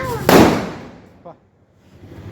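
A Diwali firecracker goes off with a single loud, sharp bang that rings out and decays over roughly a second, followed by a small distant pop and low outdoor murmur.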